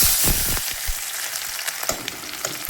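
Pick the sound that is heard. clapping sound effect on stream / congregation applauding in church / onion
onion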